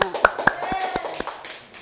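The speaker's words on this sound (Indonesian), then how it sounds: "Kita beri tepuk tangan untuk Mbaknya." A classroom of students gives a few distinct, evenly spaced claps for a classmate during a microteaching session, sharp and close, with talk running underneath.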